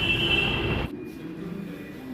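Rumbling metro train noise with a high whine fills a Delhi metro station, then cuts off sharply, leaving a quieter hum of the platform with a faint lingering tone.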